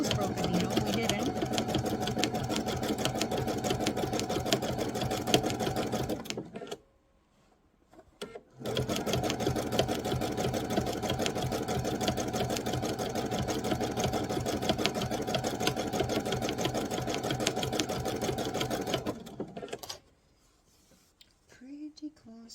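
A sewing machine stitches a fabric bowl close by in a long, steady whirring run. It stops for about two seconds, starts again for a second long stretch, then cuts to near silence at the end.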